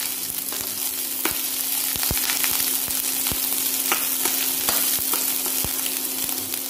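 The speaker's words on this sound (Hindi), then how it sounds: "गैस को सिम पर रखेंगे, इसे धीमी आंच पर भून लेंगे।" A mixture with chopped cashews roasts on a low flame, a steady gentle sizzle punctuated by regular sharp clicks and scrapes from stirring against the pan.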